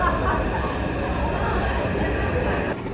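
Elevated red line train running on an overhead track, a steady loud rumble of wheels and carriage noise filling the whole stretch without pause.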